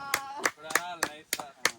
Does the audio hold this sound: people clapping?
yes